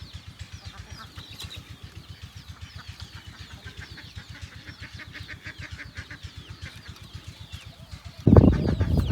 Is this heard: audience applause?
no